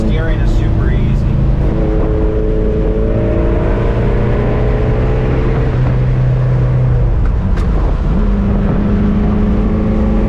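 A modified 1976 Porsche 912E with a manual gearbox driving on a road, its engine loud and close from inside the cabin, pitch rising and falling through gear changes, with people talking over it.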